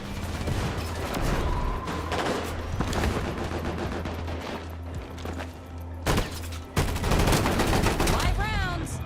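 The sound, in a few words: gunfire in video game Combat Champions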